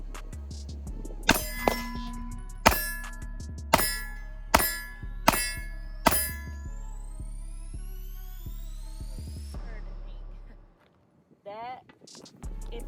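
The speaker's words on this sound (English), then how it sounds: "First mag, 12 rounds, first 6 shots." Six pistol shots ring off steel targets at an outdoor range, each sharp crack followed by a fading metallic ring, spaced about a second apart, then quiet.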